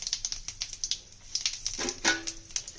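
Whole cumin seeds and asafoetida crackle and spatter in hot mustard oil for a hing kochuri filling, a steady run of small close pops that bursts into a brief, louder sizzle toward the end.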